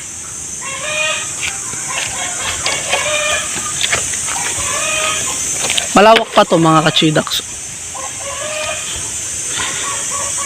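Backyard farm chickens clucking around a new nest, with a rooster crowing loudly in a sharp burst midway, all under someone talking in a steady hiss of ambient noise.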